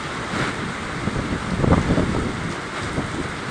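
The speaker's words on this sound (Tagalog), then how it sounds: "Ganun po kalakas ang hanging habagat na bumuhos sa mga oras na ito." Strong habagat monsoon wind and rain roar outdoors in heavy gusts, with a rushing, buffeting wash swelling and easing over a few seconds, no voices.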